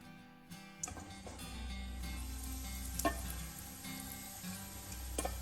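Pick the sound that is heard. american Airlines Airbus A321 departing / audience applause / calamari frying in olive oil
calamari frying in olive oil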